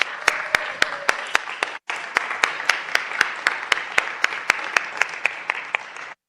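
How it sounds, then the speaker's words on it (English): A room applauds a retiring alderman at a Board of Aldermen sine die session, steady clapping with sharp individual claps standing out, a brief break near the two-second mark, then continuing just as loud. "Let's give him another round of applause."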